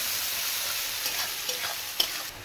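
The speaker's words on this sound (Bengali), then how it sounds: "পেঁয়াজটা একটু ভেজে নেব লাল লাল করে।" Sliced onions with a pinch of salt fry in hot oil in a pan for a Bengali-style rui fish curry, giving a steady close sizzle with a few light stirring clicks.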